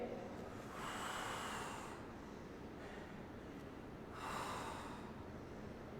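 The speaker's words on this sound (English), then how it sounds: "Exhale up. You can hear us breathing." Heavy breathing during a deadlift-focused workout, with two long, breathy exhales about three seconds apart over a steady low background hiss.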